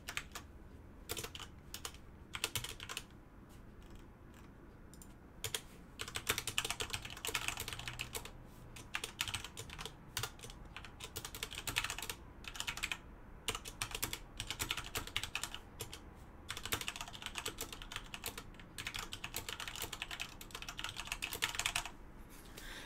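Computer keyboard typing of code comments during a programming lecture, with rapid bursts of close key clicks separated by short pauses, steady and fairly quiet.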